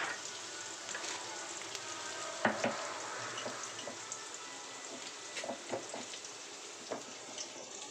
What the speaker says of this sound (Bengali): হ্যাঁ, লাল লাল করে ভেজে নিই।